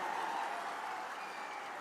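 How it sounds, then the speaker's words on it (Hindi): Steady applause from a large crowd at an outdoor political rally in Nizamabad, sustained and dense throughout without pause. "जोर से एक बार ताली बजाकर स्वागत करिए हमारे सांसद का।"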